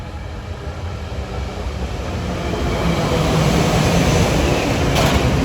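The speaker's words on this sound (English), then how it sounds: "we have a West Trenton bound train with Silverliner 4s" A West Trenton bound SEPTA Silverliner IV commuter train passes at Bryn Mawr, a broad steady roar of wheels and motors swelling louder and nearer over several seconds, with no voices.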